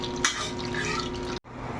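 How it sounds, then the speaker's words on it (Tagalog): Steady patter of rain drumming on a roof, a soft continuous hiss with scattered drips and a low hum, broken by a brief silence near the end. "Dinig po ba sa bubungan yung ulan?"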